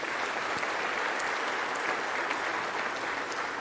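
A school audience applauds the student body president, a dense, steady wash of many hands clapping that holds at full strength throughout, with no talk over it.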